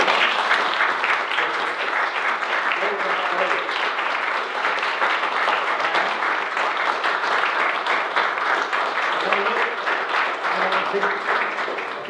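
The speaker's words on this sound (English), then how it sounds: "Now, I think we can keep the applause going." Crowd applauding continuously at a STEM awards announcement, a sustained, even roar of many hands clapping for over ten seconds, with faint voices underneath.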